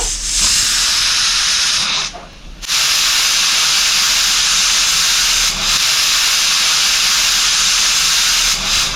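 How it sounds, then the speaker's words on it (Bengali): A pressure cooker full of moong dal with bottle gourd, bitter gourd and drumsticks hisses and whistles hard on a gas stove, a loud steady steam jet that breaks off briefly, then surges back and keeps roaring. "তিনটে সিটি মারা হয়ে গেছে প্রেসার কুকারে।"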